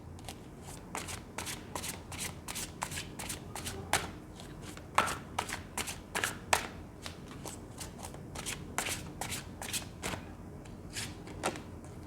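Tarot cards shuffled by hand, a steady series of crisp riffles and flicks for about twelve seconds, close and moderately quiet, with no voices.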